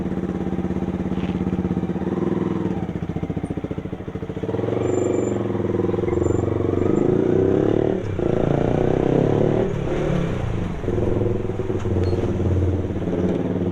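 Motorcycle engines rumbling and revving nearby as a wedding procession rides off, a steady loud drone with some clatter as the bikes pull away.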